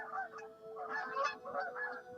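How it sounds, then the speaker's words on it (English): Canada geese honk in a visual novel scene: several quiet, nasal honks arrive in irregular bursts over a faint steady tone, with no talking. "They're geese. Canadian geese."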